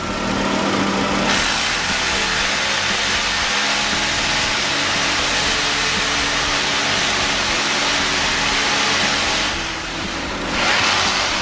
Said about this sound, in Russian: Давайте попробуем посверлить стяжку бетонную.